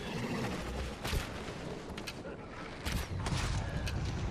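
Gunfire in a video game firefight, several sharp shots and bursts at close range over a dense, noisy battle background.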